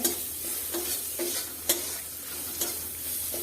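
Pointed gourd curry with dried chili powder is stir-fried in a pan. A continuous sizzle runs throughout, broken by several sharp scrapes of a spatula at irregular intervals, close and fairly loud, with no voices.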